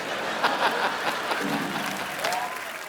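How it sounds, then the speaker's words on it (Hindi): Enthusiastic applause from a comedy show studio audience, dense clapping sustained throughout with a few voices and chuckles mixed in. "जोरदार तालियां"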